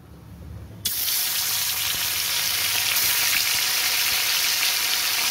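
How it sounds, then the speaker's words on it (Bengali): Small carp dropped into hot oil set to fry: after a brief quiet moment a loud, sudden burst of sizzling spitting erupts and holds steady and close, a dense continuous crackle with no voices. "তেল বসিয়ে দিয়েছি, তেলটা গরম হয়ে গেছে। এবার আমি মাছগুলো ছেড়ে দেবো।"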